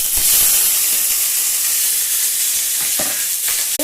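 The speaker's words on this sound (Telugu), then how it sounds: "ఇప్పుడు కట్ చేసిన ఆనియన్స్ అయితే వేసేసుకుంటాం" Chopped onions hit hot oil already tempered with cumin, stone flower, bay leaf and curry leaves, making a loud, steady close-up sizzle and hiss with occasional stirring clatter.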